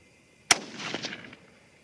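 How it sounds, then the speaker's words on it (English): A single sharp rifle shot from a .22-250 Rem or .22-ARC rifle fired slightly uphill outdoors, a loud crack followed by a short fading echo. "Third shot."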